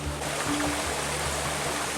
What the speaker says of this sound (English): The water at the Lost River is crystal clear and a little cold.